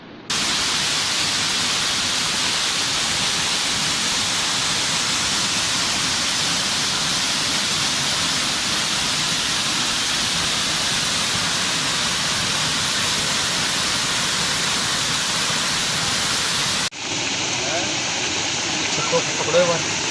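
A swollen river flows hard after heavy rain, a dense, constant hiss and roar of rushing water that cuts off abruptly near the end, where a quieter outdoor scene with faint voices follows.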